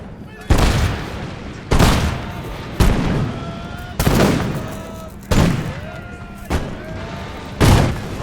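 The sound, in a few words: musket volley fire by rank, video game Imperial Glory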